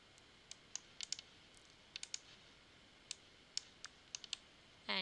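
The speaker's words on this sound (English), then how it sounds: "Let's click on Apply." Faint, sharp computer mouse clicks, about a dozen in irregular succession, tap out quietly over a low hiss while 3D models are cut in Materialise Magics software.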